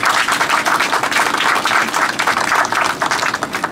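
An audience at a Fukuoka city mayor's award ceremony applauds, a dense, steady clapping from many hands that holds at a loud level throughout.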